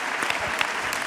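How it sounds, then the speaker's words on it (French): Brief burst of audience applause at a talk on women and inclusive democracy, a dense steady patter of many hands clapping together, close and sustained for about a second with no voices. "faites-leur un triomphe d'applaudissements"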